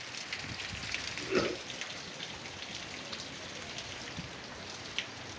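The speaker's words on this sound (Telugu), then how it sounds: "ఇక్కడ మాత్రం వాన పడుతుంది" Steady light rain patters in a soft, even hiss, with a few slightly louder drops and no voices.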